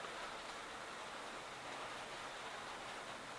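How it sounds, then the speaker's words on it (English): Rain falling outdoors as a faint, steady hiss of broadband patter that stays even and unbroken the whole time, with no voices. "I think you guys can hear the rain."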